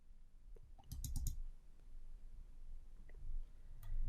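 Computer mouse clicking: a quick burst of several sharp clicks, then a few more isolated clicks, close and quiet.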